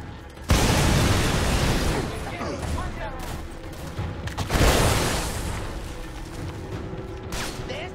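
Grenade blasts in the Army of Two video game: two loud, broadband booms about four seconds apart, each rolling off into a rumbling tail with scattered gunfire-like crackle and faint voices in the background.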